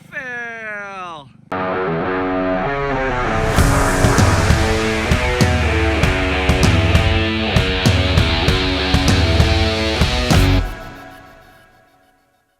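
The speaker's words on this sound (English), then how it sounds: "we're doing a drag race. Ready, set, go!" Go-karts drag racing on an outdoor track in Dublin, Georgia, with engines revving up loudly and close, a strained rising roar with rapid sputtering pulses, briefly preceded by a whistle-like squeal and fading out at the end.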